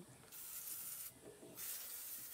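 Aerosol spray can hissing while working on an abandoned Autocar truck, two close bursts of steady hiss separated by a brief pause.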